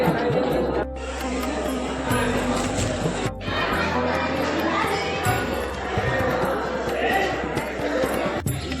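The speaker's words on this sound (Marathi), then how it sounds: "गर्दी तर खूप आहे या ठिकाणी" A dense crowd at the Alandi temple, with steady murmuring chatter from many people and children's voices all around, continuous and fairly loud.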